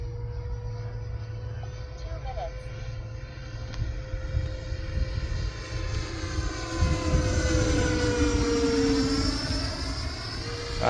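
An E-flite F4 Phantom 80mm electric ducted-fan RC jet passes overhead, its steady whine swelling and shifting in pitch as it flies by, with outdoor wind noise and no talk.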